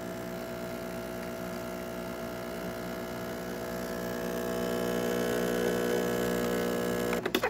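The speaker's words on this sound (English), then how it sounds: "Coffee coming out very well out of the machine." A Breville BES870XL espresso machine with a new 3-way solenoid extracting coffee: a steady, close pump hum with a tonal buzz that swells slightly, then ends with a few brief clunks.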